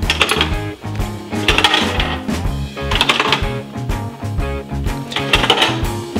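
Coins clatter into a Fisher-Price toy cash register, making repeated bright metallic jingling bursts at a steady rhythm against a busy plastic rattle. The sound is close and fairly loud.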